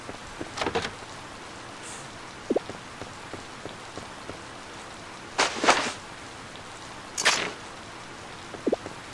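Rain in a Harvest Moon farming game patters steadily as a soft hiss, broken by a few louder splashy bursts and small clicks from the game, with no talk.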